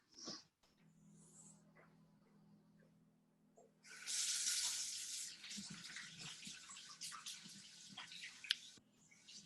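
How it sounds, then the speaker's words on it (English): Hands washed under a running tap, the water starting after a quiet pause and splashing fairly loudly for several seconds, with faint dripping and a low indoor hum beneath, close by and with no voices. "Let me just wash my hands."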